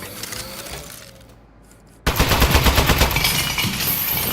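A toy turret fires after a quiet pause, bursting into a loud rapid stream of sharp, rattling shots that continues in a dense, fast rhythm to the end.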